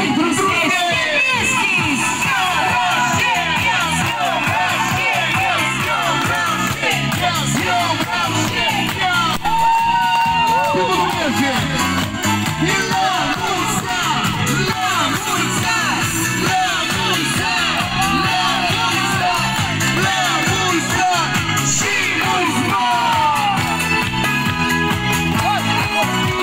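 Crowd at a birthday celebration cheering, whooping and shouting continuously, with children's shouts mixed in and voices throughout, loud and dense over music-like tonal texture.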